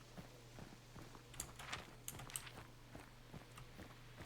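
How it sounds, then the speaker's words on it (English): Faint, distant horse hooves clip-clopping at a walking pace in the game Hunt: Showdown, a steady, quiet rhythm of soft thuds over low ambient hum. "Yeah, and I hear the horse too."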